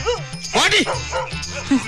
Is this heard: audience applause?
no